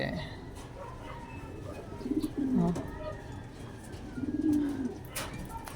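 A pigeon or dove gives two soft, throaty coo phrases close by, the first around the middle and a second near the end, over a quiet background.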